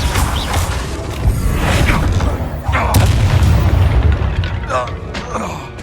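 A Confringo blasting spell explodes in Hogwarts Legacy amid a dense combat mix, giving deep booms and crashes over continuous rumble with whooshing effects, while voices speak over the action.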